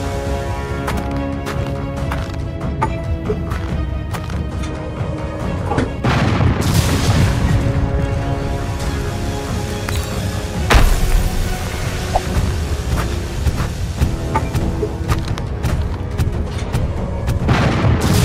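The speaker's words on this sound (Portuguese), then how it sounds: "Ele tá usando todos os canhões pra tentar parar o cogumelo gigante." Repeated heavy booms of cannon fire in Garten of Banban 4, irregular blasts over a continuous rumbling score, loud and close.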